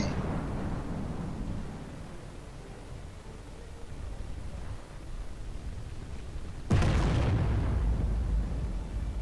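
A tank cannon in the game Armored Warfare fires an armor-piercing shell, one sudden loud boom that rolls into a rumbling tail after a stretch of low engine-like noise.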